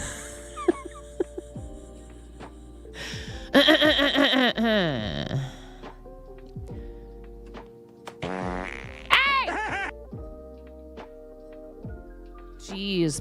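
Loud, wet, drawn-out fart sounds burst out several times, with quieter sputters between them and some background tones.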